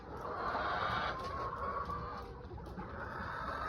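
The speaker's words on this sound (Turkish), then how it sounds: "kümesimizin horozu" Chickens clucking steadily close by in a coop, with a rooster's crow rising above the flock and a low rumble underneath.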